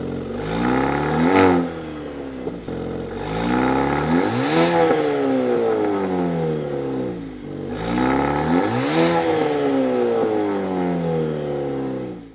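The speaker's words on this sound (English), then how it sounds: "let's take a listen to the exhaust notes on this Maserati" A 2023 Maserati Grecale luxury SUV revs its exhaust three times, each blip rising sharply to a loud roar and sliding back down to a burbling idle, close and clear with no talking.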